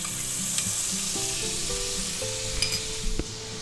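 A tablespoon of butter sizzles steadily in a pan over medium-low heat for a honey garlic glaze, a close, even hiss with a few faint clinks, no voices.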